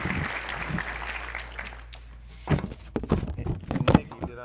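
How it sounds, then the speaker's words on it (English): An audience breaks into applause in a hall, starting as soft patter and swelling into louder, uneven clapping with some thumps near the end. "Let's give them a round of applause."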